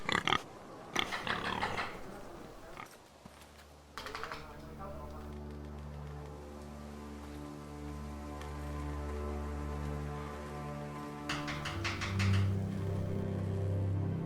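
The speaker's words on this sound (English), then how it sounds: "Oh, pigs!" Pigs grunting and squealing in Game of Thrones: Iron From Ice, short snorty bursts at the start and again near the end over a steady droning musical bed.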